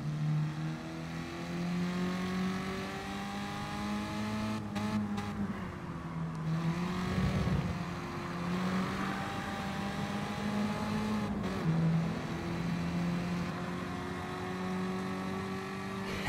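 An older car's engine revving in Gran Turismo Sport, a raspy, steady drone whose pitch rises and falls as the throttle opens and eases through gear changes, heard close and alone.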